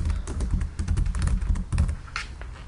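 Someone types a command on a computer keyboard, a steady, close run of quick key clicks and taps with one sharper keystroke near the end, no voices.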